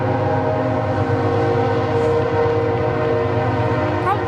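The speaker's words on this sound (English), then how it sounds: "And there comes the train." A train passes near a baseball field during a college tournament game, its loud, steady rumble and sustained horn-like tones filling the entire span without letting up.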